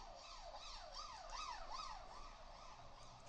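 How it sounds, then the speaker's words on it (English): An emergency vehicle siren wails in the background, its rising and falling tone cycling several times, faint and distant behind a quiet room. "Apologies for the siren in the background."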